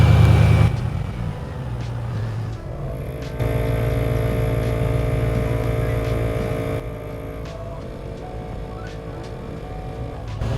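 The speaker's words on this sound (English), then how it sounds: "The EAS compressor will be doing the job, as well as the ARB compressor." Electronic air suspension and ARB compressors on a 4x4 with a leaking airbag suspension run as the vehicle rises to standard height: a steady, close mechanical hum and drone that shifts in level partway through and continues alone throughout.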